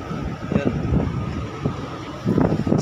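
Strong wind at People's Park buffets the microphone in low, rumbling gusts that come in uneven surges, with faint voices in the background.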